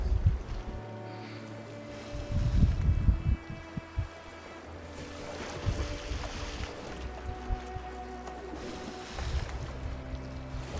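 Oars paddle a boat across open water in the video game Detroit: Become Human, with irregular splashing strokes over a low ambient hum and faint wind, mid-distance and moderately loud, no voices.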